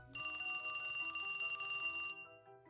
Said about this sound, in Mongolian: Удалгүй хонх дуурч